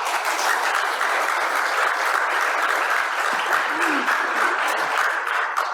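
Audience at a city council meeting claps steadily and evenly for several seconds, a dense continuous patter of applause with little else heard.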